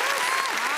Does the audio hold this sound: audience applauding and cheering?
yes